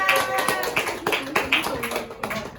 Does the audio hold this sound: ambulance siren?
no